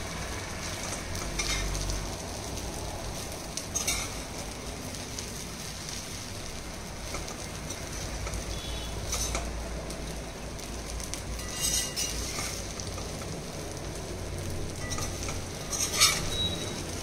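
Sabudana khichdi with crushed peanuts, potato and green chilli being stirred and sautéed in a pan, a steady soft sizzle with repeated scraping strokes of a spatula, no voices.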